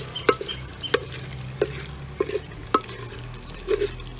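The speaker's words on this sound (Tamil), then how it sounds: "ஒரு பெரட்டி மல்லித்தலையை போட்டு ஒரு பெரட்டி எடுத்துடலாம்." Village chicken peratal with coriander is stirred in a clay pot, giving about seven sharp scraping knocks at uneven intervals over a soft background sizzle, with no talking.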